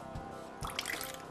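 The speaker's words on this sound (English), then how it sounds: "Now a splash of red wine vinegar" A quick splash of red wine vinegar is poured over a salad, a faint, brief liquid patter of drips followed by a short hissing pour.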